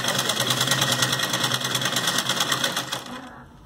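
A sewing machine stitches a small summer dress for a Laddu Gopal idol, a steady rapid mechanical whir with fast even needle pulses, close and loud, easing off near the end.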